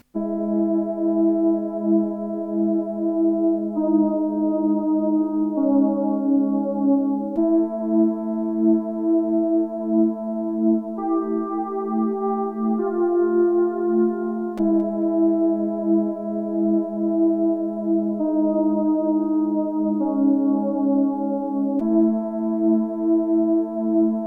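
A Korg Volca synthesizer strings part plays alone in an old-school trance style, sustained chords stepping through a looping chain of four patterns, steady and fairly loud with no talking.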